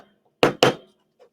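A metal disc being hammered into a dapping block for earrings or pendants: two sharp, close strikes in quick succession, followed by a faint softer knock.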